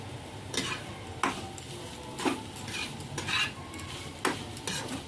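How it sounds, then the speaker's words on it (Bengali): A spoon stirring in a pan over a medium gas flame while making a Bengali sweet dish, with scraping strokes about once a second against a soft, steady sizzle, close and fairly quiet, with no talking. "নাড়াচাড়া করব।"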